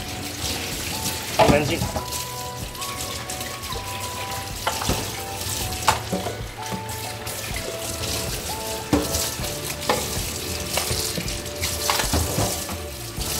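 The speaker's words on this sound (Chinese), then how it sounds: "然后整个是可以拆下来冲洗的，就把它冲冲" Tap water rinsing the detachable brush head of a Bissell Crosswave wet-dry vacuum mop in a sink, a steady close splashing stream with clattering handling noises, while a voice speaks briefly.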